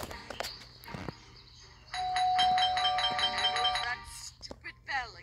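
A doorbell rings in the video game Scary Teacher 3D, a loud repeating electronic chime lasting about two seconds, with a person talking before and after it.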